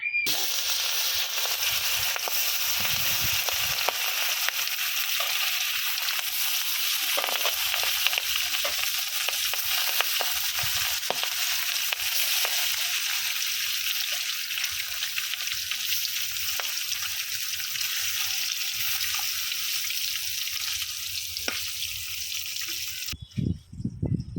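Fish fry in hot oil in a wok, giving a steady, loud sizzle that runs for over twenty seconds with scattered pops and stirring scrapes, then cuts off abruptly near the end.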